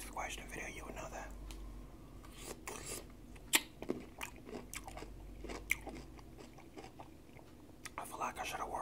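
Close-up crunching of pickles and crackers eaten in a quiet ASMR setting, irregular crisp bites and chewing clicks spread over several seconds, with soft whispering in between.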